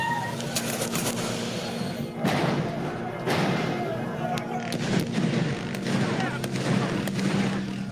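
Gunfire rings out in Port-au-Prince after a presidential assassination: sporadic heavy thuds and sharp cracks echo at a distance, irregularly spaced, while birds chirp in the background.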